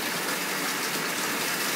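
Water gushes steadily into a tub while play sand is rinsed, a loud, unbroken rushing flow from start to finish.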